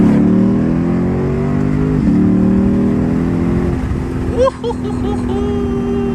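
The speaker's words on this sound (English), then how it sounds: "You hear them downshifts, nice, crispy." Lexus IS F sedan engine blipping through downshifts while driving, a steady engine drone that drops and shifts pitch in quick steps, close and loud inside the cabin.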